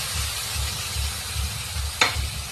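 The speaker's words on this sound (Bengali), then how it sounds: "টমেটোর পেস্টটা দিয়ে এখন আবারও একটু ভেজে নেব" Spice masala frying with tomato paste in a pan gives a low, steady sizzle with soft rhythmic stirring pulses and a single sharp tap partway through.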